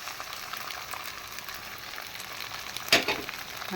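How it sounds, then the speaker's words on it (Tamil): Steady sizzle and crackle of egg cooking on a hot pan for egg parotta, fairly quiet and even, with a brief louder burst of sizzling near the end. "இப்போது முட்டை முட்டை உடச்சி அதை ஊற்றிக்கணும்"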